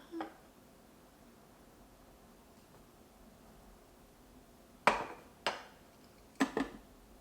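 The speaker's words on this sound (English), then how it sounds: "I can't lift this dang bowl, and it only has 2 cups of sugar in it" A mixing bowl holding two cups of sugar is handled and knocks a few times against a hard surface, giving several short, fairly close clunks and scrapes spread over a quiet stretch, with no talking.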